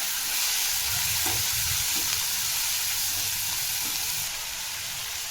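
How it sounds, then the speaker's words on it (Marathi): Ghol bhaji greens sizzle loudly in hot oil in a pan, with a constant frying hiss and soft scraping bumps as the vegetables are tossed and mixed, recorded close. "इथं भाजलेली भाजी टाकून घ्यायची आहे तेलात"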